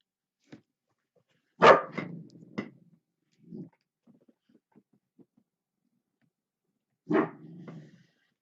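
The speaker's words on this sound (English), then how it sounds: "Excuse the barking." A dog barks a few times, loud and close, with short gaps, then a final bark after a quiet stretch.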